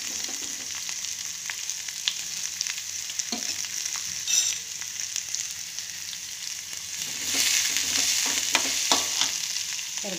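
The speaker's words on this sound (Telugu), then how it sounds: "ఎర్రగడ్డలు వేయించుకోవాలన్నమాట బాగా." Onions and green chillies frying in a pan, a constant close sizzle with scattered stirring scrapes and clicks that grows louder and busier toward the end, no talk.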